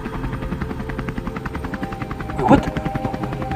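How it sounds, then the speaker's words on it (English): Helicopter flying over an island, a steady low rhythmic rotor chop running throughout and swelling briefly louder as it passes, with a startled voice speaking over it. "There was a helicopter! It just flew at... It was flying at the island!"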